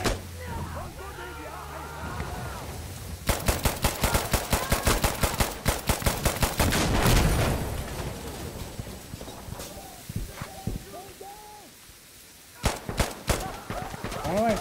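Rapid bursts of gunfire in the Insurgency Sandstorm shooter, volleys of close shots cracking in quick runs with pauses between, over a steady game ambience, while people talk over it.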